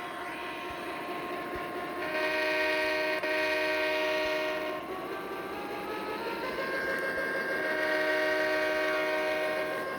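A passenger train hauled by FP40 locomotive units rolls along with a steady rumble, its horn sounding in long sustained blasts that swell and fade.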